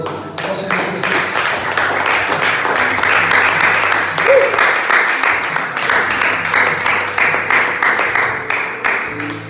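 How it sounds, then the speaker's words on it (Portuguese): A church congregation gives loud, sustained applause during a Portuguese-language sermon. The clapping is full and close, partly falling into a pulsing rhythm, and a voice comes through beneath the crowd. "Dê um forte aplauso ao Senhor Jesus."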